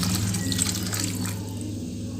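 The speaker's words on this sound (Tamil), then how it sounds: "ஒரே ஒரு பூனி அளவு தண்ணி சேர்த்துக்கலாங்க" Water pours steadily into a cooking pot of dal rice, close by, a continuous splashing trickle with no talking.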